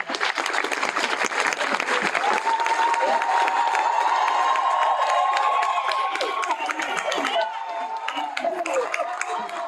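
Family and friends applaud graduates at a spring graduation ceremony, a large crowd clapping steadily with cheers and scattered shouts, while a voice carries over the noise through the middle.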